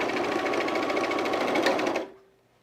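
A sewing machine stitches through thick denim on jean shorts, a loud, steady rapid mechanical whirring and clatter running continuously for two seconds before stopping and fading out.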